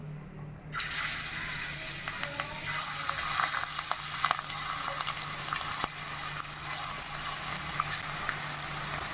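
Prawns frying in hot oil, a dense, even crackling sizzle that begins suddenly and holds close and steady, dotted with small pops throughout.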